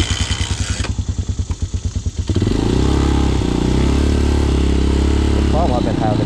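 A motorcycle with a new E3 spark plug is kickstarted, giving a few rapid chugging pulses. Then the engine catches and settles into a loud, steady idle close by, with no speech.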